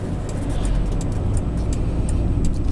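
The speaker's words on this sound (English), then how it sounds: "And I'll just pull up here." A Nissan Tino diesel car pulls up, heard from inside as a steady low engine and road rumble with a faint repeating tick above it, loud and constant throughout.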